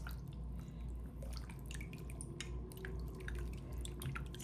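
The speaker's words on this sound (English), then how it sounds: "I'm going to put it in, swish it around a little bit, just to give it a little rinse." A knitted wool cowl is swished and rinsed in a basin of water during wet blocking, giving soft, quiet sloshing with small drips and trickles close by.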